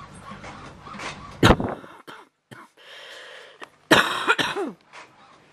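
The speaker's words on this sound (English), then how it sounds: "sorry about the coughing" A few sharp, close coughs in short bursts, separated by quiet gaps and brief soft sounds.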